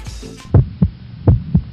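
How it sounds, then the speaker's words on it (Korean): A heartbeat sound effect plays two pairs of deep, close, thumping beats in a steady lub-dub rhythm over a low hum. "두근두근 콩닥콩닥"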